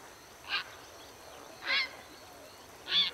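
Large birds at a waterhole honking in three separate loud goose-like calls spaced about a second apart, clear and close over a quiet background.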